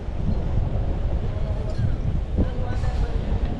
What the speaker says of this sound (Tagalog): Medyo nalakas na guys ang hangin oh.